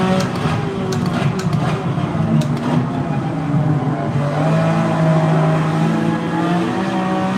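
A GT3 race car engine in a racing video game at Trial Mountain, a steady, loud droning whine with shifting pitch as it holds partial throttle, continuous and alone.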